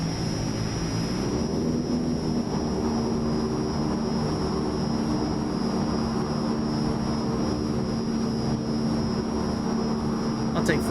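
A Transall C-160 military transport in a video game throttles up its turboprop engines for takeoff from the tarmac, producing a steady, loud droning roar with a constant high whine.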